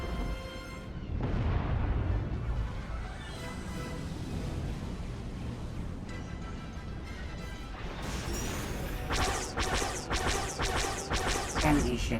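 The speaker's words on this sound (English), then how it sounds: "Enemy ships are opening fire." Enemy ships open fire in a video game: a dense stretch of booming blasts and crashing impacts, with rapid sharp cracks bunching up in the last few seconds, loud and continuous, with no voice.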